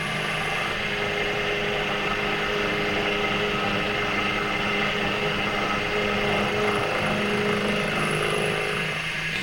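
A homemade toolpost milling spindle runs steadily on a Myford lathe against scrap steel, giving a continuous whirring, gear-like mechanical whine with a faint ratcheting texture, close and even in level throughout, with no talk.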